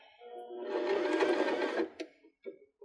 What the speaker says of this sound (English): you can backstitch at the beginning and the end if you'd like